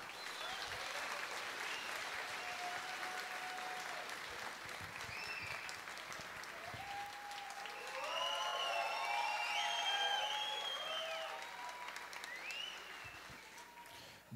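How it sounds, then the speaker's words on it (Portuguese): Audience at a stage hypnosis show breaking into sustained applause with some cheering and whistles, a broad wash of clapping that swells in the middle and fades toward the end, voices mixed in. "uma salva de palmas para os nossos astros."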